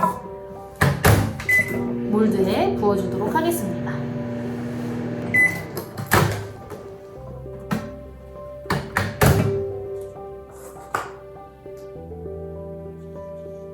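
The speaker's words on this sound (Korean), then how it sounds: "전자레인지에 한번 5초에서 10초 정도 돌려서 녹인 다음에" A microwave oven heats wax briefly for aroma cube making, humming steadily with sharp door thunks and taps around it, while a person talks over part of it.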